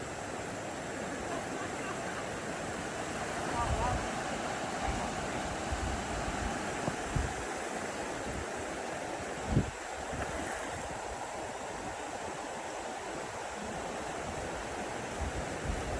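A river on a hiking route in Dominica gives a steady, broad rushing wash of flowing water, continuous and fairly loud, with a faint knock partway through.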